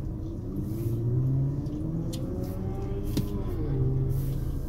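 A 2016 Mercedes-Benz CLA 250 idles and creeps forward while parking, its engine a steady close rumble with a brief rise in revs partway through.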